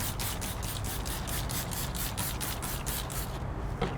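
Rapid, steady spray bursts from a trigger bottle of wheel cleaner gel onto a brush, about a dozen quick pumps in a row, close and fairly loud, then a pause.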